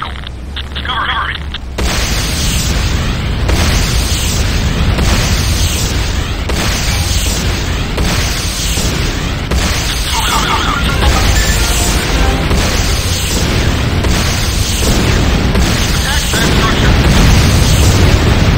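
Explosions boom repeatedly as a GDI power plant is destroyed in Renegade, a loud, dense run of pulsing blasts and rumble over several seconds, with voices talking through the noise.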